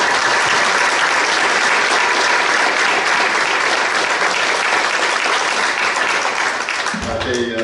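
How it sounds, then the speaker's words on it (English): A loud, dense round of applause from a city council meeting audience for a new police captain, sustained and even throughout before tapering off at the very end as a voice begins. "we can give him a round of applause"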